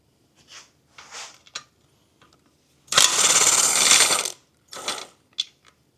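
Ratchet clicking in short bursts as bolts come off a fuel pressure regulator on a Workhorse Vortec engine, with one longer run of rapid ratcheting, close and crisp with quiet gaps between bursts.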